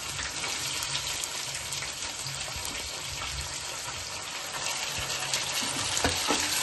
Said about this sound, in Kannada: ಈರುಳ್ಳಿ ಫ್ರೈ ಆಗಬೇಕು.